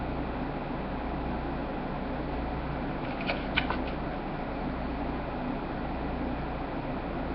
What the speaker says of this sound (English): This is a popcorn maker.